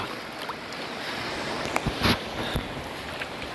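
Calinawan River water flows in a steady broadband rush that stays close and even, with a few soft splashes poking out and no voices.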